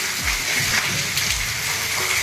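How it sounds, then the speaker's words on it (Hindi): Steady heavy rain pours down, a dense continuous hiss of water hitting surfaces, close and enveloping with no voices. "बहुत ज़्यादा बारिश हो संगवारी हो"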